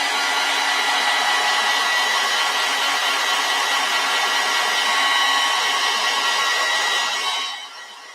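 A hair dryer blows steadily on wet acrylic paint on a snow globe winter cottage painting, a loud, even whoosh that holds for most of the clip before tapering off as it switches off.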